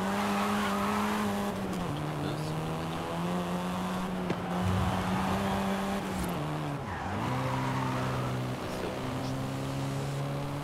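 Volkswagen Golf R, seventh-generation hot hatch, driven in Forza Horizon 5, its engine droning steadily with rising and falling revs and shifts, loud and continuous, with a brief dip mid-run.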